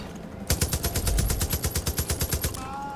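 A light machine gun fires in Far Cry 5 in one sustained automatic burst of about two seconds, a rapid even string of sharp, loud shots that starts abruptly and stops just as suddenly.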